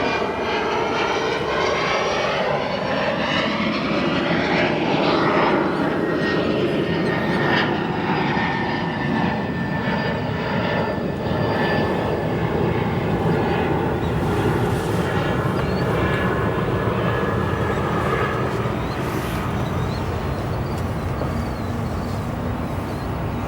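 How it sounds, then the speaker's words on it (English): Steady roar of FedEx jet aircraft CF6 engines spooling up at O'Hare Airport, a continuous loud whine and rumble with rising tonal pitches, no voices. "You can see that FedEx starting up its CF6 engines. Hear them now."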